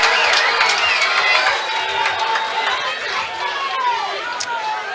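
Spectators at the CageZilla 68 cage fight between Jason Wilson and Rochelle Peebles shout and cheer in a rising roar, with individual yells standing out over steady crowd noise and voices talking throughout.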